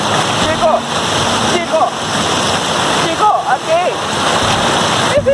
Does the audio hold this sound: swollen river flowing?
yes